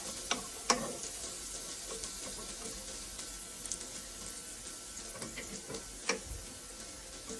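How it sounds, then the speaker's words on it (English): Onions sweating gently in a pan for pork chops with mushrooms make a steady, soft sizzle, with a few faint clicks and ticks on top and no talk. "just sweat out my onions a little"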